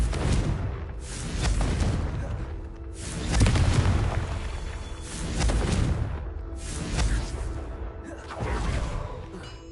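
Confringo fire-spell explosions in the video game Hogwarts Legacy: loud whooshing blasts bloom every couple of seconds, each swelling into a deep boom and fading before the next.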